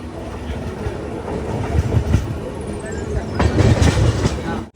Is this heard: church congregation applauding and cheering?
no